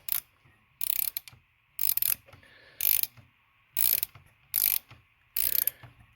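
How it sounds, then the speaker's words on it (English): An AGA N62 valve spring compressor being ratcheted on the cylinder head of a 2006 BMW 750i, heard as close, loud bursts of rapid ratchet clicking, about seven even strokes with short pauses between them and no talk. "So once you feel the tension, that's when you start ratcheting."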